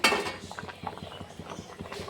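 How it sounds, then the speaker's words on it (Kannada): A metal spoon stirring soybean gravy in a cooking pot, a quick series of light clinking scrapes in a steady rhythm, close and fairly quiet. "ನೀಟಾಗಿ ತಿರುಗಿ ತೊಗೊಂಡು ಚಮಚ"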